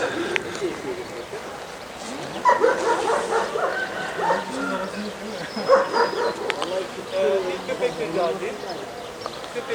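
A dog barks and yips in short bursts during a social dog test as another dog passes close by, the barks moderately near and mixed with people talking.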